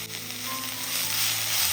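Drumstick (moringa) pulp sizzles steadily in a hot pan while being stirred, a close, continuous frying hiss with light scraping that grows slightly louder over a brief stretch.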